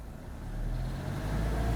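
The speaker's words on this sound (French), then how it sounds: "Tu entends alors un tout petit peu le moteur monter dans les tours" A car engine rises slightly in revs as the clutch starts to engage during a driving lesson, a low, steady hum that grows a little louder.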